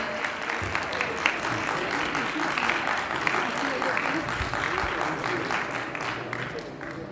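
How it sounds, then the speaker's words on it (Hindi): An audience at a felicitation ceremony applauds continuously with dense, steady clapping of moderate loudness, while voices are heard faintly under it throughout. "तालियों में इतनी कंजूसी अच्छी बात नहीं होती है"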